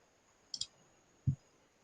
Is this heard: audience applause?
no